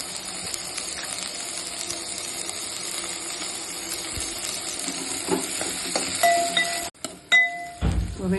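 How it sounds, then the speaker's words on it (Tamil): Onions and curry leaves frying steadily in oil in a pan, a continuous close sizzle, with metal spoon clinks and stirring scrapes toward the end. "வெங்காயம் செவக்கிற வரைக்கும் இதை நல்லா வதக்கணும்."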